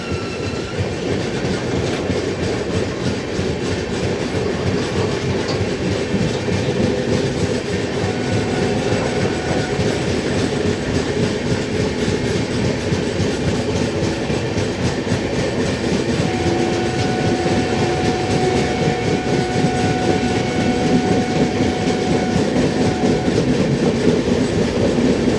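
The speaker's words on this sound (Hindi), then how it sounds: "टैंकर ट्रेन मिल गई है हमें" The 22957 SF Express runs from Gandhinagar toward Veraval, passing a tanker train, with a loud, continuous rumble and rapid clickety-clack of wheels on rails throughout, with no talk.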